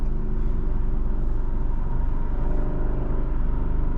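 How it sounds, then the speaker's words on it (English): A Lamborghini car drives past at night, a steady loud low engine rumble with a deep droning tone holding constant throughout, with no voices. "Oh, is that Lambo?"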